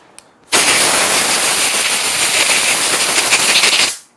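Compressed air blasting dust off a surface before an epoxy pour, one loud continuous hiss lasting about three seconds, starting abruptly and cutting off, close and alone.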